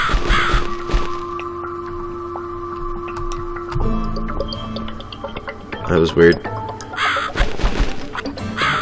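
Crow caws in The Cat Lady horror adventure game, a few harsh calls set against droning ambient tones and steady hum, with someone talking over parts of it.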